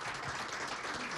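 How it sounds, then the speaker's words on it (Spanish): Applause from a small group, probably including children, filling a short burst of steady, dense clapping close to the microphone with no voices on top. "le vamos a pedir que se den un aplauso"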